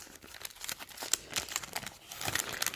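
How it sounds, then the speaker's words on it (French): Someone unwraps a package sealed with lots of tape: close, crackling crinkles of paper and plastic and short ripping tears come in uneven bursts at a quiet level. "J'espère que je ne vais pas faire trop de bruit en le déballant."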